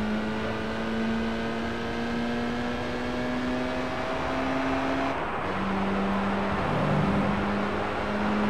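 A Toyota Trueno engine in Gran Turismo 3 drones steadily at high revs, holding one pitch before a gear change drops the tone and it climbs again, loud and continuous with no talk.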